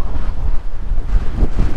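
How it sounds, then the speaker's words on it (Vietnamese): Strong coastal wind in the windswept seaside desert of Ninh Thuận, Vietnam, buffets the microphone with loud, continuous roaring gusts that pulse unevenly throughout, with no voices. "Gió mạnh lắm, gió muốn bay mình luôn á."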